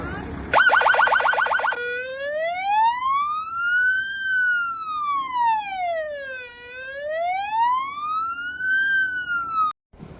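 Fire engine siren wailing loudly during a hospital disaster drill, starting with a brief rapid yelp burst and then settling into a long, slow rising-and-falling wail that runs steadily to the end.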